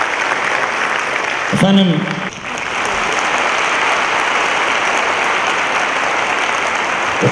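Steady audience applause fills a packed hall at a religious evening gathering honoring the Prophet, continuous clapping throughout, briefly overlaid near the start by a voice speaking over a microphone.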